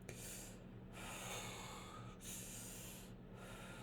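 Deep, slow breaths are drawn in and let out close to the microphone during a cervical fascia release exercise, with roughly three long airy inhales separated by brief pauses, with no speech.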